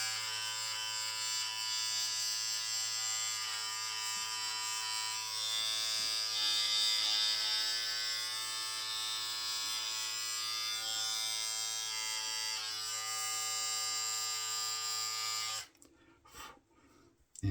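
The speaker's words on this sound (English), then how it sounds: "let's just trim around the lip a little bit." An electric facial-hair trimmer with its guard removed buzzes steadily and close while trimming around the lip, a constant high whirring drone that cuts off abruptly near the end, followed by faint handling noise.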